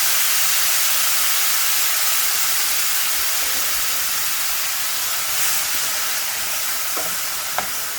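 Rehydrated freeze-dried shrimp and browning garlic sizzle in a pan for shrimp scampi, a steady, close, bright frying hiss with a few faint clinks.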